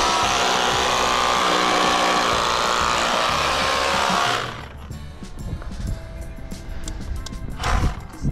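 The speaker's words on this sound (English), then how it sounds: "Drill another hole." Loud, steady whine of a power drill boring a hole runs for about four seconds, then cuts off, leaving quieter handling knocks, rustling and a brief louder scrape near the end.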